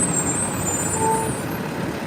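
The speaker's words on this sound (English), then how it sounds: "let me wait till the truck passes" A truck rolls past on a Brooklyn street, a steady, close, loud engine rumble holding throughout with a brief high hiss or squeal partway through.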